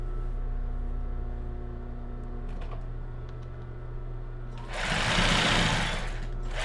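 A sewing machine stitches lace thong underwear. A low hum opens the clip, then a loud burst of rapid stitching chatters close by near the end.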